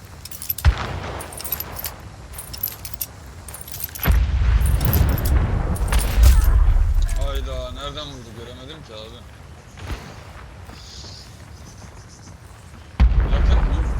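A grenade blasts in a first-person shooter game, one of several heavy low booms that swell and fade amid clicks, handling noise and a brief whistle, while players talk over the action.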